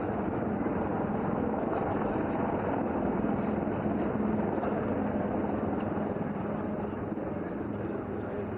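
Rudra attack helicopter flying during a military firepower exercise at Pokhran, Rajasthan, a steady loud broadband rotor and engine roar that holds evenly throughout without letup.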